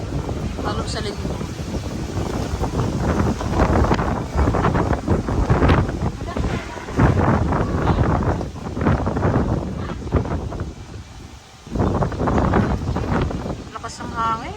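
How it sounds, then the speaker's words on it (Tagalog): Strong wind from an approaching storm blows in gusty surges against a provincial home, roaring and buffeting the microphone with a brief lull near the end, while people talk over it. "Lakas ng hangin."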